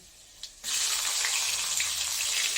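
Onion drops into hot oil already tempered with bay leaf, panch phoron and dried chilli, setting off a sudden loud, continuous sizzle that keeps up steadily at close range.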